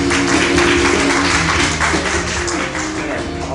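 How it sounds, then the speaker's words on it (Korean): An audience at a literary concert applauds a novelist with loud, dense, steady clapping that fills the room and eases slightly toward the end. "박수 부탁드립니다"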